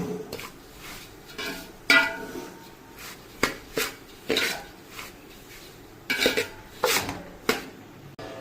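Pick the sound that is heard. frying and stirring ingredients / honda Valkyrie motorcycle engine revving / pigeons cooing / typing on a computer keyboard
frying and stirring ingredients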